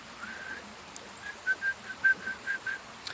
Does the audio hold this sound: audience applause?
no